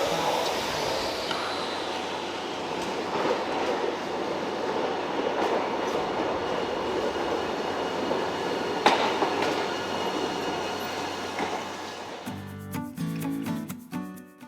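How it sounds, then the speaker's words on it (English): A tram in Hiroshima rolls along steadily with a loud rumbling drone, wheel squeal and some clicking of the rails, then slows near the end as a few electronic chime tones sound. "After the Peace Park, it was time to hop on a tram to get to our next destination."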